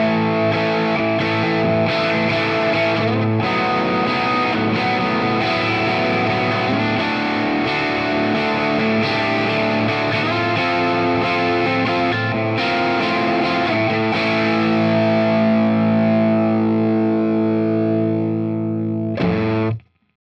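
Distorted electric guitar through the British 45 preset of a Fender Tone Master Pro, a crunchy amp tone with sustained chords and riffs playing continuously for about nineteen seconds before cutting off abruptly.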